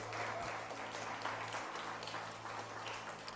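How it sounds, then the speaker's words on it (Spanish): Steady applause from a church congregation, continuous clapping throughout with a low hum underneath. "Dale palmas al Señor"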